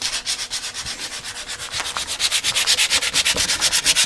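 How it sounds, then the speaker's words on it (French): Steady back-and-forth sanding on a horse trailer van panel, close and rhythmic with quick regular strokes that grow slightly louder and more even toward the end. "Là, petit coup de ponçage"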